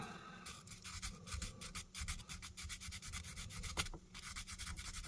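Steady back-and-forth rubbing of fine sandpaper on metal, rhythmic rasping strokes, close and fairly quiet.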